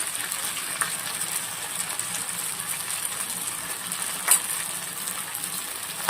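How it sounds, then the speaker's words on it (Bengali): Ground coriander, cumin and chili paste going into a hot pan for a pangas fish and eggplant curry, giving a steady, even sizzling hiss with one or two small clinks. "এবারে বাটা মশলা দিয়ে দেবো, ধনে জিরে আর মরিচ বাটা।"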